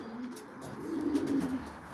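Racing pigeons in a loft coo softly, a low repeated throaty murmur rising and swelling midway, close and alone with no speech.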